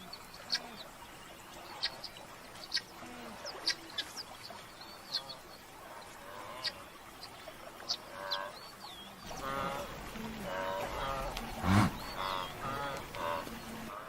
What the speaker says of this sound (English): Guinea fowl seem remarkably happy to tempt fate